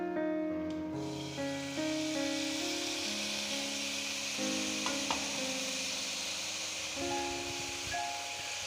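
Boiled vegetables stirred in a pan for urap, a gentle steady sizzle and scraping with soft stirring strokes under a melodic music bed.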